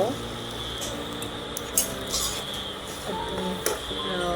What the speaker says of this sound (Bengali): সুজি দিয়ে দিয়েছি এবং অনবরত নাড়তে থাকছি